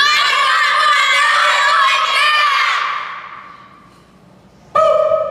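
A crowd of children at a county fair shout together as loud as they can, a dense, loud roar that fades over a few seconds before a single voice cuts in at the end.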